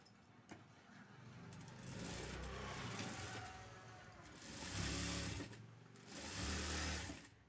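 A sewing machine runs steadily while stitching around a blouse lining, giving a continuous close whir that swells slightly in loudness a couple of times. No one speaks over it.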